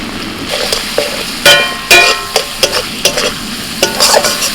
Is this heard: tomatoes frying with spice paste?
yes